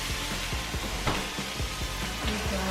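Chicken macaroni sopas simmering in a pot with carrot, stirred with a spoon that clacks against the pot in a quick irregular rhythm over a constant sizzle, close and fairly loud, no talking.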